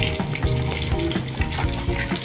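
Fish pieces fry in hot oil in a pan, a bubbling sizzle broken by several soft knocks and splashy pops at uneven intervals, close and fairly loud.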